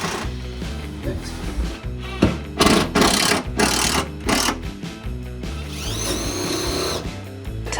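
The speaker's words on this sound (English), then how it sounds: "And then I'll drill pilot holes in strategic locations." A power drill whirs in several short bursts while drilling pilot holes, revving up and down with pauses between, close and loud, with faint voices in the background.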